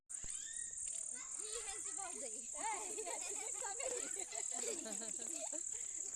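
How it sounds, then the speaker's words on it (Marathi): A dense, continuous high chirring of crickets at night fills the background while a person talks over it. "ऐकलात ना तुम्ही रातकिड्यांचा आवाज"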